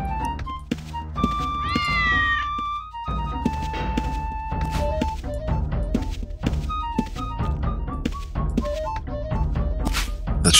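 In the video game Ruins & Riches: Adventurers Of Akalabeth, a cat gives a rising meow amid game music and a series of dull thunks and knocks.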